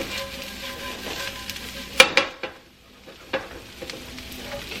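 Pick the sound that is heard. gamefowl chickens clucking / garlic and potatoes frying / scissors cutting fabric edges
garlic and potatoes frying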